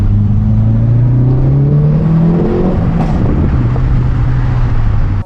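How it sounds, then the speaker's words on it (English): A car with an active exhaust revs loudly, its exhaust note climbing in pitch as the pedal is released, then settling into a deep, steady rumble close by. "I take my foot off the pedal and I hear the exhaust sound."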